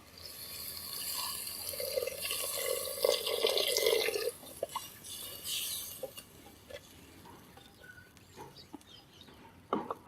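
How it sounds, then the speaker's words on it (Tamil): Water pours in a steady splashing stream into a clay cooking pot for a few seconds, then trickles and drips sporadically, with light clinks and faint rustling nearby. "நம்ம இதுக்கு தேவையான அளவுக்கு தண்ணி ஊற்றிக்கலாம்"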